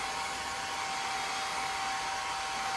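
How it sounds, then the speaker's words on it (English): A hair dryer blows steadily on chalk paste laid over a craft stencil, a close, even, continuous whoosh with a faint motor whine that holds unchanged from start to end, with no voices. "So I'm just going to dry this a little bit before I go on to the next area."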